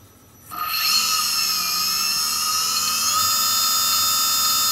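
A Hyundai HSG IPM electric motor driven sensorlessly by a Lebowski controller spins up smoothly from silence, its high whine rising in pitch and then holding as a steady, close, loud tonal hum with no speech.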